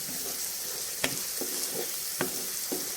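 Ginger garlic paste frying in a pan while cooking a raw mango curry, a steady close sizzle with a few sharp stirring clinks against the pan.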